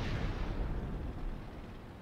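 IS-4 heavy tank in World of Tanks firing high-explosive shells: a continuous low rumbling boom fills the short stretch, dense and loud in the bass, fading slightly toward the end with no distinct separate shots.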